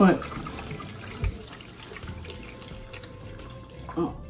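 Water poured into a paludarium tank for a leak test, a continuous splashing, running trickle with a few louder gurgles and clunks, heard close up.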